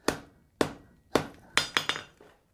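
Hammer forging hot steel into a boss, six sharp ringing blows close by, spaced roughly evenly and quickening toward the end.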